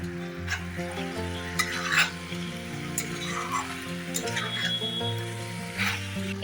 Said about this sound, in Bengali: এভাবেই ঢাকা দিয়ে দিয়ে মাংসটা ভালো করে কষাবো